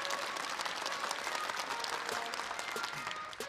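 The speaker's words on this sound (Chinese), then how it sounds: "请大家给习主席掌声鼓励。" Steady audience applause for Chairman Xi fills the whole stretch, dense even clapping from a large crowd at constant loudness with no voice over it.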